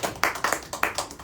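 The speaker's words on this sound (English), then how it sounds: "So please give him a huge round of applause." Guests at a fundraising dinner clap for Congressman Gregory W. Meeks, a close, loud series of distinct claps in a quick, uneven rhythm rather than a full wash of applause, over in about a second.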